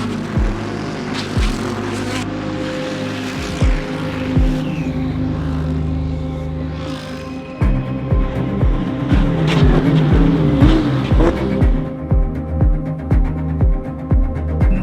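Race car at the Bathurst 12 Hour racing past at speed, a loud roaring engine note rising and fading, followed by a rapid series of sharp gear-change pops and revving bursts through the second half.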